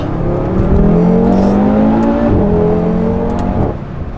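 A tuned Audi RS3 with an Integrated Engineer Stage 1 tune pulls hard, its engine note rising loudly through the revs with a gear change partway before it eases off, heard from inside the car without talk.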